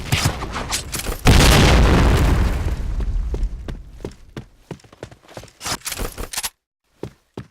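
A grenade explodes in the shooter game Point Blank: one loud, close boom that rolls out and fades over a couple of seconds, followed by scattered sharp clicks and footstep-like taps, then a short silence.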